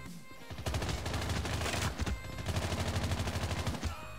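Continuous rapid gunfire from a weapon in the Call of Duty Mobile video game, a dense fast-paced burst of shots lasting several seconds, loud and close with little else heard.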